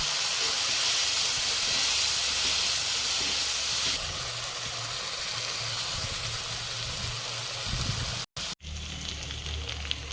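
Onion, ginger, garlic and cashew paste sizzles in hot oil for a pointed gourd curry with prawn paste gravy. A loud, steady hiss fills the clip, eases slightly partway through and cuts out briefly near the end.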